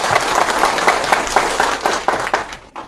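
A crowd applauds a candidate at a presentation of candidates for Cacique General in Buabiti, with steady, dense clapping from many hands that stays loud throughout and thins slightly at the end.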